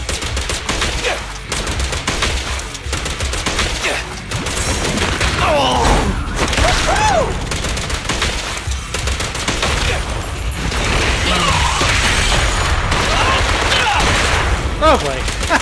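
Rapid bursts of gunfire from the video game Zenless Zone Zero, loud and dense with booming hits and repeated volleys throughout, set against game music and effects, with voices heard at times.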